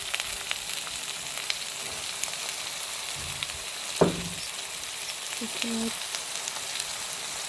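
Tomatoes and green chilies fry in an onion, garlic and ginger paste, giving a steady low sizzle throughout, with a soft utensil clink partway and a few brief spoken words.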